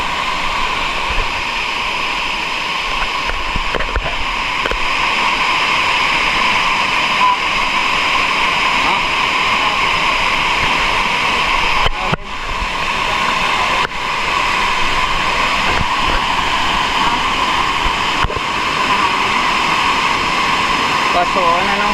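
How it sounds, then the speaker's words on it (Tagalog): Close to a waterfall, falling water makes a loud, continuous roar that holds steady throughout, with a brief dip partway through. "Yan yung falls ko."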